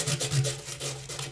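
A washing machine drum part being rubbed with fine sandpaper during a stainless drum bearing replacement, giving a steady close rasping scrape in quick back-and-forth strokes.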